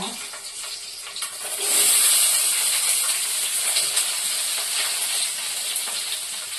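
Green chillies and onion sizzle in a hot pan for an egg curry, a steady loud hiss of frying that swells after a moment and holds evenly throughout.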